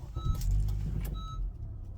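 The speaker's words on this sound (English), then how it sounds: "You hear that chime, that means we have the low battery in our key fob." Two short electronic chimes sound a second apart inside a Honda car at push-button start, warning of a low key fob battery, over a low, steady cabin hum.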